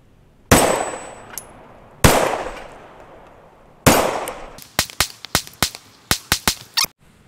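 Hellcat pistol firing reloaded brass rounds at targets outdoors: three loud, spaced shots with decaying tails, then a rapid string of about ten sharp reports in quick succession, no talking.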